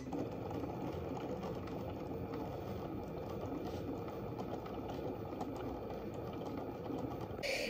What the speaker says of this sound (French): j'ai décidé de vous laisser le son pour que vous vous rendiez compte que c'est vraiment pas fort du tout la découpe